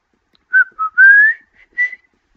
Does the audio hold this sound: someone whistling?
yes